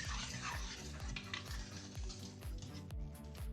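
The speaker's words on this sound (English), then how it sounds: "And give it a last stir." Thick chili with added corn being stirred in a pot, a steady run of rhythmic scraping and stirring strokes alongside a soft simmering sizzle, close and moderately loud with no talking.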